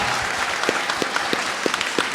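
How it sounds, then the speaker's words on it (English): Steady applause from a crowd, dense clapping with a few sharper claps standing out, filling the whole stretch without voices. "So I'd love to give a big round of applause to everybody here."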